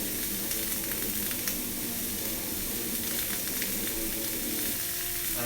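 Hotdogs simmer and sizzle in a pan, giving a steady, close hiss of frying that runs unbroken with no voices over it.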